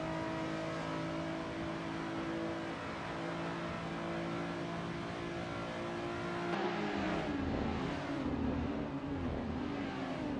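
Race cars in Assetto Corsa, a Nissan R34 Skyline and a Nissan 370Z, accelerate together at the start at Mugello. A steady, sustained engine roar lasts throughout and swells louder and rougher near the end as revs climb.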